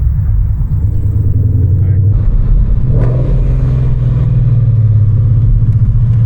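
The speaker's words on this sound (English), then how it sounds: "You get the little pops and burbles at whatever it's called, you know, when you downshift or when you're slowing down." Heard from inside the cabin, a 2015 Mustang GT with an aftermarket exhaust gives a loud, steady low rumble that swells midway, with a brief burble; voices talk faintly underneath.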